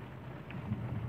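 Steady thunderstorm rain in Villers-Bocage, France, patters under a low rumbling background, with no voices.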